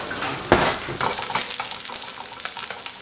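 Onions cooking on high heat in a pan for Philly cheesesteak rolls, a steady sizzle and crackle with a sharp stir or clatter near the start, close and continuous.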